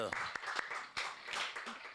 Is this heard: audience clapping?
yes